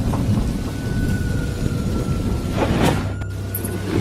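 Rain and thunder from a nighttime storm in a Bengali horror cartoon: a steady, dense hiss of rainfall with a brief crackling burst of thunder near the end, and no voices.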